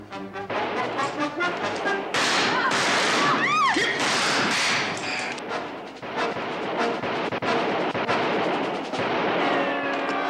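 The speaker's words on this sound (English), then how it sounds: "Start firing, boys. Make them keep their heads down." Gunshots ring out in a western shootout, a dense and loud barrage of cracking shots with echoes and a ricochet whine. The firing runs almost continuously across the span, close and chaotic, with no speech over it.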